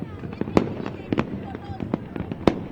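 Fireworks burst during the Makar Sankranti kite festival in Jaipur: several sharp cracks and pops at irregular intervals over a busy background, with people talking throughout.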